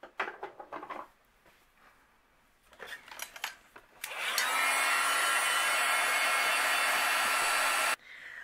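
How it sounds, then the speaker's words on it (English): Heat gun melting white embossing powder on a card background panel, a steady loud blowing roar that starts after some light handling sounds and cuts off abruptly. "I'm going to use my heat gun and we'll melt this embossing powder."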